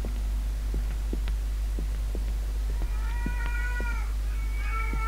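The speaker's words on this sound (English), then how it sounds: "The cat's really creepy." Creepy cat meows in the horror game Erie, several drawn-out wavering cries over a constant low hum and a soft throbbing, heartbeat-like pulse.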